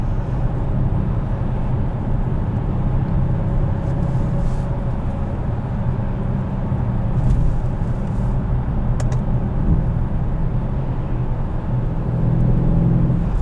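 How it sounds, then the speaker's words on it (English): A 2013 Mercedes-Benz E63 AMG, rear-wheel drive, on a cold day, its engine a loud, steady rumbling drone heard from inside the car for the whole stretch, with no clear rise or fall in revs and no voices. "The downshift sounds spectacular."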